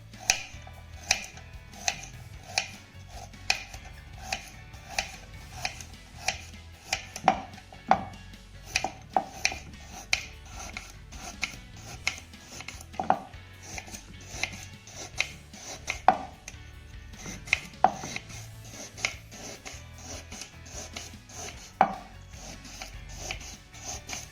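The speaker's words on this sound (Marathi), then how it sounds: "सर्वात आधी आपण या गाजराचे तुकडे करून घेऊया" Carrots being cut into pieces with a knife on a board, a steady run of sharp, evenly spaced chops close up, continuing for a long stretch with no talking.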